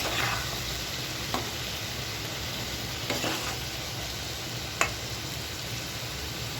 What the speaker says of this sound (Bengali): সুন্দর করে নেড়ে চেড়ে শুটকি এবং সবজি মিশিয়ে দিচ্ছি।